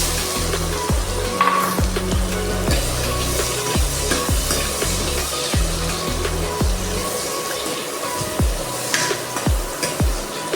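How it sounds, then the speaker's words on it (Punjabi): Onions fry in a pan for a pumpkin curry, giving a loud, continuous sizzle and crackle with repeated clattering strokes of stirring against the pan, and no voices. "ਪਿਆਜ਼ ਨੂੰ ਪਿਆਜ਼ ਨੂੰ ਪਕਾਉਣ ਦੋ ਤਿੰਨ ਮਿੰਟ ਤੱਕ ਹਾਂਜੀ ਭੁੰਨਣਾ ਜੀ"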